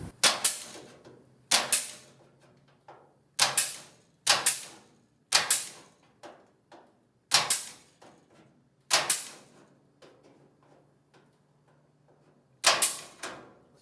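Bursts of welding on VW Karmann Ghia floor pans during a restoration, roughly eight sharp crackling spurts spaced a second or two apart, each fading off, with faint hum between and no talk.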